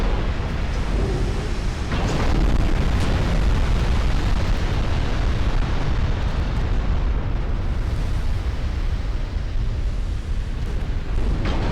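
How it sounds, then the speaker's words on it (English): Shell explosions in a naval combat video game, a dense continuous roar of heavy booms and rumbling blasts, loud and sustained with no pauses. "A lot of shells coming her way though."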